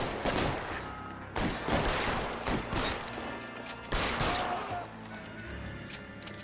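Colt 45 pistol gunfire in the video game L.A. Noire, with several loud, sharp shots in quick clusters and a harsh, crashing edge, over a dense background of game sound.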